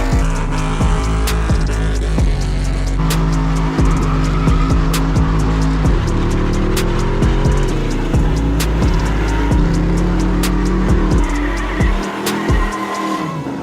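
Chevy C10 truck with an upgraded small block 350, aluminum heads and fuel injection, driven hard in a parking lot: loud engine roar and revving with repeated tire squeals, close and sustained throughout.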